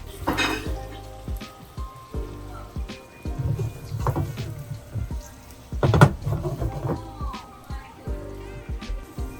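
Butter frying in a pan alongside crepes for crepe suzette, giving a crackling sizzle with clattering pan and utensil knocks, a sharper clank near the middle, close and moderately loud.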